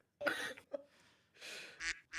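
Ducks quack in a few short, raspy bursts, fairly close, with brief gaps between calls and no talking.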